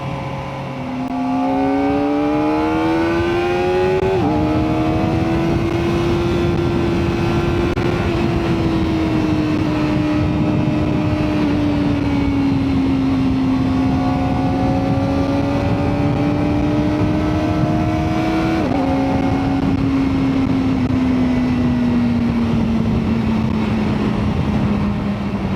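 Kawasaki ZX-4RR motorcycle pulling hard on a country road, engine note climbing steadily through the revs in one long loud pull, with two quick upshifts breaking the rising whine.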